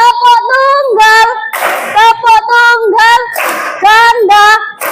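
Students in a classroom perform a chanted single-clap routine: loud group voices call out in rhythm, with sharp bursts of hand claps between the chanted phrases.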